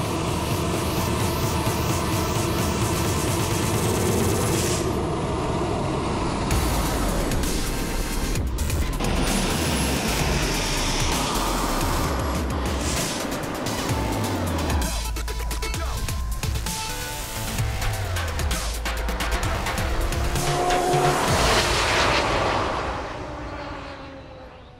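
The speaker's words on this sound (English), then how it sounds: "Okay, going full throttle up now." A jet-powered RC car runs at full throttle on a record speed attempt, giving a loud continuous roaring whine with shifting pitch sweeps as it passes. Excited shouting is heard along with it, and the roar fades at the end.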